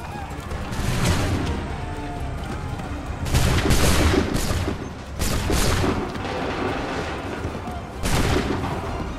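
Musket volleys crash out in Assassin's Creed III at Lexington and Concord, several loud, dense bursts of massed gunfire with booming, crackling tails, arriving in irregular waves with shouted commands between them.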